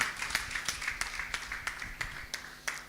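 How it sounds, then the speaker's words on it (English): A conference audience at an innovation summit in Nigeria gives sparse, faint applause, with a few distinct claps at irregular intervals over a low room hum. "Clap, please."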